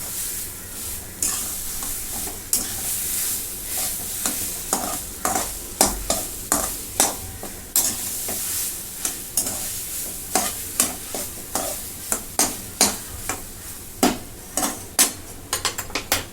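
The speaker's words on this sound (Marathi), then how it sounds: "आणि एकदा आता परतून घेते त्याला पाच पाच मिनटाला असं सारखं परतावं लागते तेल खूप लागतं" Chickpea flour pithla being stirred and fried in oil in a pan, with a steady hiss of sizzling broken by repeated sharp scrapes and knocks of the spoon against the pan, growing more rhythmic toward the end.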